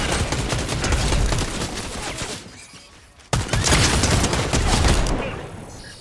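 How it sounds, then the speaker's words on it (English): Sustained automatic gunfire in the Fortnite Chapter 5 Season 1 battle royale game, loud dense bursts that pause briefly and then resume with a sharp crack, no voices. "They're shooting."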